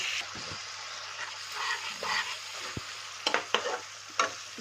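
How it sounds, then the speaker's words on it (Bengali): Gobindobhog rice fried with spices in a pan over a low gas flame, a steady soft sizzle with scraping stirs and a few sharper clinks of the spatula near the end. "গ্যাসের ফ্লেম লো করে পুরো ভালো করে চালটাকে এই মশলার সাথে ভেজে নেব"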